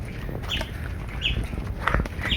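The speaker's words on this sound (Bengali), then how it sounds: "এখানেও মোটামুটি পাখির ডাক শোনা যাচ্ছে" Birds call among the trees of the Chintamani Kar Bird Sanctuary in Kolkata, giving several short, high chirps scattered over a soft outdoor background with no talking.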